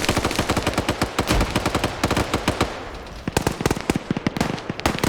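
Rapid bursts of automatic gunfire in a tactical video game match, loud and close, with dense rattling volleys that briefly thin out before resuming in sharp repeated shots.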